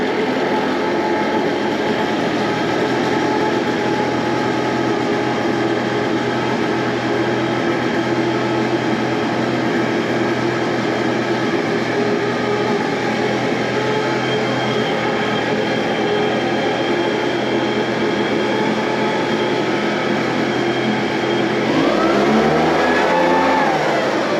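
A Tomahawk backpack fogger engine runs steadily and loudly up close for over twenty seconds, a sustained droning roar that swells in a brief rev near the end.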